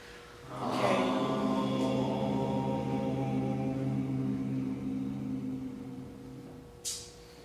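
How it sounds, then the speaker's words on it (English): A group of voices holds one long, steady vowel together, a sustained hum that fades out after several seconds, followed by a brief faint noise. "I want everyone to intone the word ow, and just hold that for a moment"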